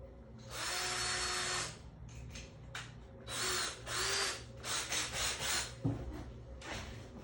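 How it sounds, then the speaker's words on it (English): Power drill boring out an airsoft part, several short close whirring bursts of varying length with brief pauses between, high-pitched and grinding as the bit bites into the material. "Okay, we're just gonna drill this out just a little bit."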